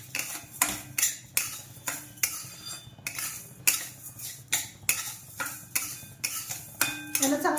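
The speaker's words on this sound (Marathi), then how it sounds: "याला चांगलं पातळ होईपर्यंत हलवत राहायचं सारखं, अजिबात कुठं बाजूला जायचं नाही हलवताना।" Sugar melting in a little ghee in a pan on a low flame is stirred continuously, a spoon scraping and clinking against the metal in a steady repeated rhythm, close and fairly loud.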